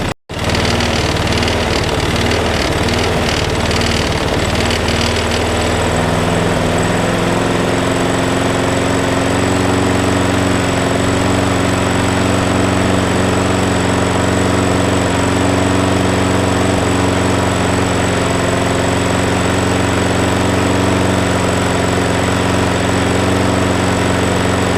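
A repaired Mountfield lawnmower engine runs loud and close after a sharp start, settling into a steady, buzzing drone that holds without a break.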